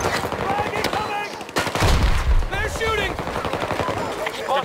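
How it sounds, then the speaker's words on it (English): Automatic rifle fire in a first-person shooter video game, rapid bursts of shots crackling close and loud, with players shouting over the gunfire. "They're shooting!"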